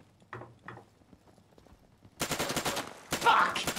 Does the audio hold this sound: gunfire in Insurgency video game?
yes